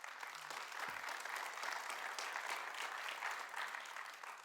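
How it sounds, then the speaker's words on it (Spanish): Church congregation applauding, a steady wash of many hands clapping at even loudness for several seconds, with no talk over it. "Denle un aplauso a Dios."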